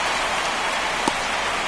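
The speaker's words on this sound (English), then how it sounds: "This rain is not letting up." Steady rain falls throughout a baseball video game broadcast, an even, dense hiss with one brief soft tap near the end and no commentary over it.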